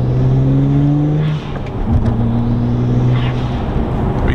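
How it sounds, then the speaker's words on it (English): A turbocharged BMW with a performance exhaust revs loudly and steadily up close, its engine note holding and climbing over a continuous rumble. "It sounds sick. Just a BMW performance exhaust."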